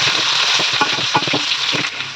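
Green chillies fry in a hot pan while an aubergine and chickpea dish is being prepared. A close, continuous sizzle is broken by a few soft stirring knocks.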